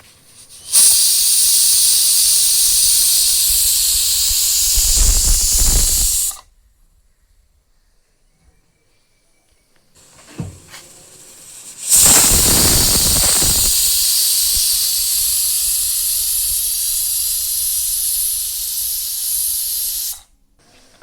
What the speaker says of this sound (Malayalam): 2 ഫിസിൽ വരെ കുക്കറിലിരിക്കട്ടെ.